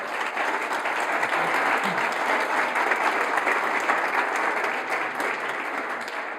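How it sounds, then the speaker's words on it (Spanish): A university lecture audience greets the visiting lecturer Mario Bunge with steady, full applause that holds at an even level throughout, with no voices standing out above the clapping. "Lo recibimos con un aplauso."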